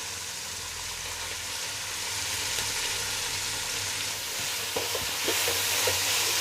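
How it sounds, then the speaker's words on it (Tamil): Chopped onions for chicken biryani frying in a pan, a soft steady sizzle that grows louder, with a few scraping stirs near the end, no voices. "கட் பண்ண வெங்காயம் எல்லாம் ஆட் பண்ணிக்கலாம்."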